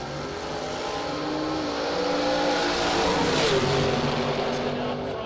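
Drag racing cars, a Bel Air and a 1970 Camaro, roar down the strip with steady engine noise and a rising rev, loud and sustained throughout.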